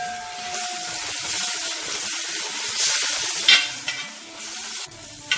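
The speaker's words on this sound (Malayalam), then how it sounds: "ഇനി നമുക്കിതൊന്ന് ഇളക്കി കൊടുക്കാം." A pan of Kerala-style nendran banana and broken wheat payasam being stirred, a continuous scraping, bubbling sizzle with a few louder clacks of the spoon near the end, close and steady with no talk.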